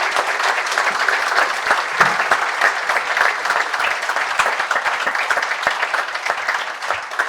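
A live audience at a Norwich City football podcast event breaks into loud, sustained applause, dense clapping filling the room with no voice over it.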